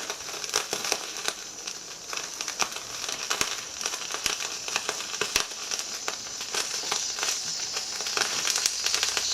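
Steady fizzing and sizzling hiss with scattered crackles and pops from a Wilesco model steam roller raising steam pressure, with a water leak, close and continuous throughout.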